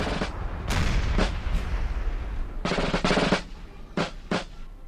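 12-pounder artillery in a Napoleon Total War battle at Lisbon, firing a loud ragged series of booming shots in uneven clusters, some overlapping, with short gaps between volleys.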